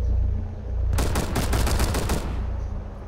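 Automatic gunfire from a gun in Rainbow Six Siege during a team deathmatch on the Bank map: one rapid, loud burst of closely spaced shots lasting over a second, with quieter game ambience before and after.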